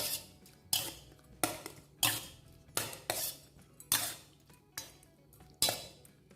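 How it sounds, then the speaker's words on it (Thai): Raw shrimp tossed with lime juice in a bowl for Thai shrimp larb, with about eight distinct clinking scrapes of a utensil against the bowl at a steady rhythm, close and fairly quiet. "คลุกน้ำมะนาวให้ทั่วกุ้งดีเลย"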